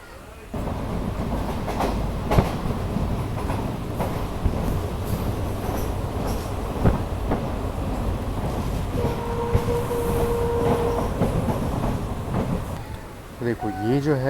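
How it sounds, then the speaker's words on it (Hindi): A train rolls slowly along tracks near the Bhutan border in an elephant crossing zone, heard from inside with steady rumbling wheels, clicking joints and a brief squeal, loud and continuous with faint talk underneath. "इसीलिए यहाँ पे ट्रेन की स्पीड बहुत स्लो हो जाती है"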